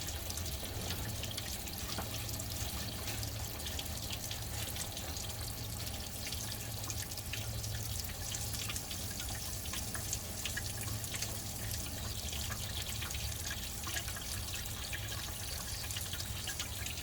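Water running steadily through a flushed heater core on a 1989–98 GMC K1500 truck, a constant close splashing rush that continues unchanged throughout with no talking.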